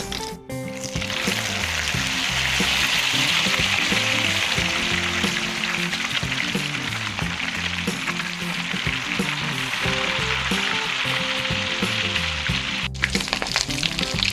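A silverfish omelette (tortang isda) sizzles steadily in a frying pan, a loud, continuous close-up hiss with faint scraping, then a couple of sharp knocks near the end; no talking.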